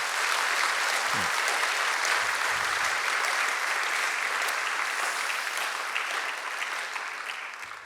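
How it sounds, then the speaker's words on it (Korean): A church congregation at a Korean Sunday worship service applauds its church school teachers, a dense, steady wash of clapping that carries on throughout and tapers slightly at the end. "우리 선생님들 위해서 다시 한번 박수 한번 쳐주시면 좋겠습니다."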